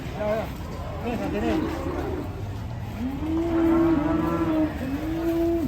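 Cattle fighting and headbutting give repeated deep, drawn-out bellows and moos, fairly close and steady, with people talking in the background.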